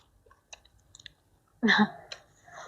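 Someone chews crisp lettuce salad close up, with a few small mouth clicks and then a loud crunching bite and chewing burst midway, faint and quiet around it.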